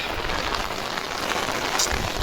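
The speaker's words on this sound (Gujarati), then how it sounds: "ભાઈ ચેક કરો વરસાદ" Steady rain falls on a road and farm fields, a dense, even patter with no break and no voices.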